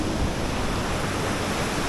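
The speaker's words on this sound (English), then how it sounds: "What a beautiful waterfall." A waterfall on the Rio Bueno river pours in a continuous, dense rush of water noise, loud and steady from start to finish with no voices over it.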